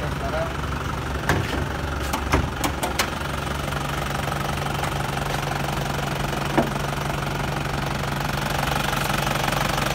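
A used car with its original engine idles steadily at a dealership, giving a continuous low rumble with a faint hum. A few soft clicks and knocks break through at intervals.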